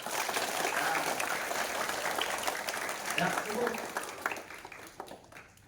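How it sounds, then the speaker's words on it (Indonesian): Schoolchildren at an elementary school clap together during a traffic police visit, a steady burst of many hands that fades toward the end, while someone speaks briefly. "Ya, tepuk tangan dulu"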